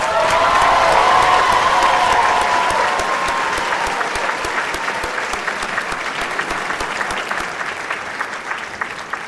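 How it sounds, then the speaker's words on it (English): Sustained applause from a large audience at a spring college graduation ceremony at WGTC's Waco campus, dense clapping loud at first and gradually thinning and softening over several seconds. "One more round of applause for our graduates."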